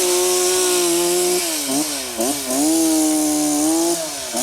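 A chainsaw cutting tree branches drones loudly and close, its buzzing pitch dipping and recovering several times as the blade bites and eases, with no voices over it.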